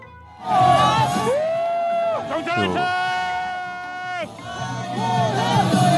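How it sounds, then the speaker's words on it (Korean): Crowd of protesters cheering and whooping as a police transport vehicle passes at dawn, loud sustained shouts and overlapping voices rising and falling, with a sharp burst of yelling midway. "경찰차 보고 환호하는 거지."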